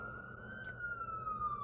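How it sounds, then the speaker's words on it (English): A distant New York City siren wails with a slowly drifting tone over low city rumble, faint but steady throughout. "a perk of going to NYU is the sirens, always."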